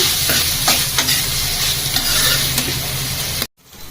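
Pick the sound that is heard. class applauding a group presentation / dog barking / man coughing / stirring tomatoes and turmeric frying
stirring tomatoes and turmeric frying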